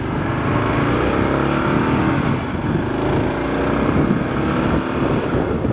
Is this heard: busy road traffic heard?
yes